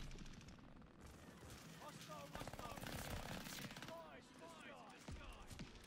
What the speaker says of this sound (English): This is a fun SMG, though.